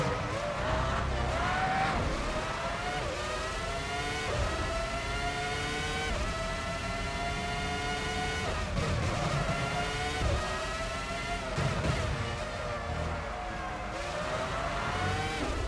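Formula One 05 race car engine screaming continuously at high revs, pitch climbing and dropping repeatedly through gear changes and corners, loud and sustained throughout.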